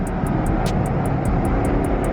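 Dodge Challenger Redeye engine roaring at full throttle in a street race, a dense, loud, sustained low rumble with steady power, close up, accompanied by regular faint high ticking pulses and no talk.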